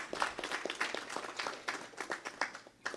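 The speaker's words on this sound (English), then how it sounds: "Give him another round of applause" A gathering at a weekly Sunday satsang claps for a child, giving a lively burst of mixed hand claps from a modest crowd that thins out toward the end.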